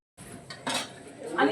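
Cutlery and plates clink at a picnic lunch at a farm in Panvel, where a group of school friends sit down to surmai fry, chicken rassa and jeera rice. The scrapes and clinks are close by and brief, with faint talk behind them.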